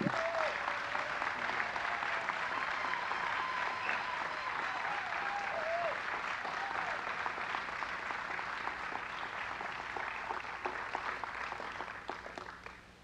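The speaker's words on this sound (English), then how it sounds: "So we'd like to give a round, warm welcome of applause for Mr. Jeremy Scahill." Sustained audience applause greets a journalist taking the stage for a talk on Blackwater USA, a dense, steady wash of clapping lasting about twelve seconds before tapering off at the end, with a few faint whistles early on.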